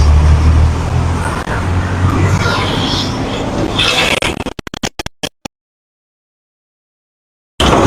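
Road traffic with cars and heavier vehicles rumbling close by, a steady loud engine roar that breaks up into scattered bursts and then drops out to near silence before returning.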